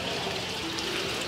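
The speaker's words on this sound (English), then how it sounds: "Oh, the nice sound of the babbling brook in the morning." Soft, steady trickling water like a small brook, a continuous gentle babble heard faintly at a distance.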